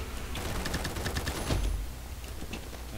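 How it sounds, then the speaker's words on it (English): M4 rifle firing in the shooter game Combat Master, rapid automatic bursts of crisp, close gunshots rattling almost continuously. "Yeah, this is an M4."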